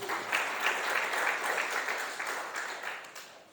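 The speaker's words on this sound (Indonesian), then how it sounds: "Tepuk tangan bagi Tuhan." A worshipping congregation applauds during a church service, a full, even wash of many hands clapping that carries steadily and eases slightly toward the end.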